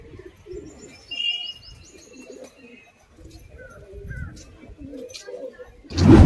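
Racing pigeons coo and chirp around a loft, with a loud burst of wing flapping at the end as the released birds land.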